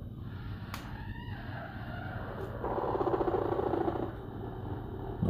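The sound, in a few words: chickens clucking and crowing as a warning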